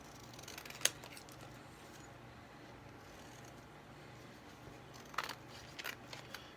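Scissors snip the edge off a thick, frilly journal tag: a couple of short, crisp cuts separated by quiet moments, close and faint.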